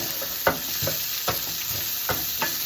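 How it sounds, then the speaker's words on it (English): Onions caramelizing in a frying pan with peppers for Sicilian peperonata, a constant close sizzle broken by several sharp stirring scrapes in a loose rhythm, with no speech. "The onions are caramelizing a little bit."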